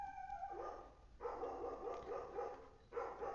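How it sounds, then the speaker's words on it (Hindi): Dogs bark outside in a short volley of several sharp, moderately loud barks that come in bursts, heard from a little distance with no voices over them. "कुत्ते भौंक रहे हैं।"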